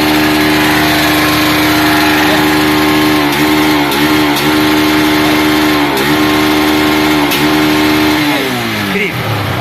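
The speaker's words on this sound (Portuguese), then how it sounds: "Olha a força que tem essa moto, hein?" A motorcycle engine with a regulated carburetor, original gearbox and original engine runs loud and close, with a steady drone broken by repeated revs and a final throttle blip, while someone talks over it.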